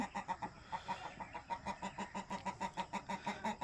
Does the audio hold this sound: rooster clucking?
yes